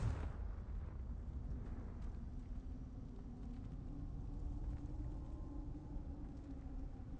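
A Confringo fire spell in Hogwarts Legacy bursts at the start with a sharp blast, then leaves a low, steady rumble that lingers for several seconds at moderate loudness.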